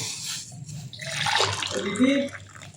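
Hot water poured from a pot just heated on a gas stove, a short splashing gush that swells and trickles in a home kitchen, fairly close.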